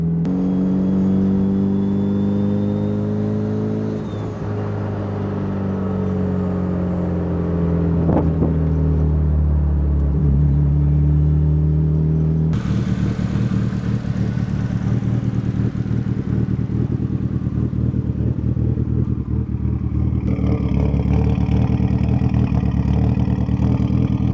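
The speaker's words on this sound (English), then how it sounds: "We'll let the engine slow us down" A Mitsubishi Lancer Evolution IX's engine hums steadily as it decelerates under engine braking, pitch gradually falling, then a harsher whirring drone with road noise continues for a long stretch.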